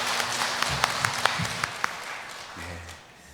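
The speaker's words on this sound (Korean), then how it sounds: "하나님께 영광 박수 올려드리겠습니다" A church congregation at a Sunday worship service applauding, with scattered claps that fade out while a low sustained tone and a brief voice come in at the end.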